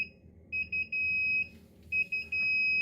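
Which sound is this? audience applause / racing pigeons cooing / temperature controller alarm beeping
temperature controller alarm beeping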